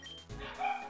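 A single short dog bark sounds in a game, a quick yip at moderate volume heard alone.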